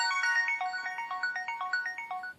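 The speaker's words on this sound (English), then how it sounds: "and the default notification is Chris." Default notification tone on a ZTE N817 phone: a bright, rapid electronic chime repeating in quick regular pulses for about two seconds, close and clear with no talk.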